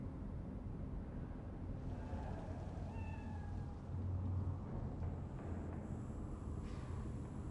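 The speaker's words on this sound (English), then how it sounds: "Aw, cat!" A cat meows a few times in Cyberpunk 2077, faint, short mews set against a steady low rumble of ambient city and engine noise.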